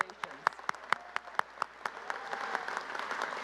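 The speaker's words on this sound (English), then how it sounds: "All right, one more round of applause." Scattered, sharp individual claps from the audience at an engineering master's hooding ceremony, building into a fuller, steadier round of applause that continues to the end.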